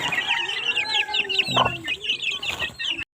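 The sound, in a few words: chickens clucking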